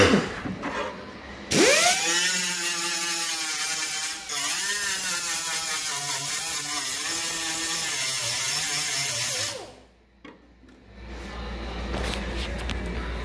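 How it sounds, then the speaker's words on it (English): A small grinder cleans up rusty auto body metal for a welded patch repair, roaring loud and steady for several seconds with a wavering pitch, a brief dip, then cutting off. "I'll take a little grinder here and I'll hit that real fast"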